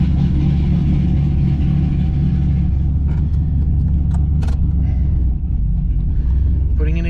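A Chevrolet Camaro Z28 fitted with a custom 700R4 transmission runs just after its first start, a loud, steady low engine rumble at idle that holds close and continuous throughout.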